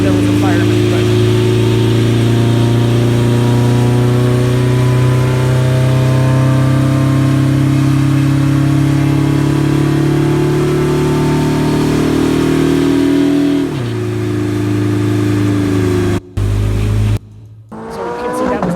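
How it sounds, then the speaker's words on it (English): A Corvette revs hard on a chassis dyno during its first test, a loud sustained engine roar climbing and holding before dropping sharply, then cutting out in short bursts near the end. "this is a video of the first test on a chassis dyno"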